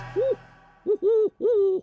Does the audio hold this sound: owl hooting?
yes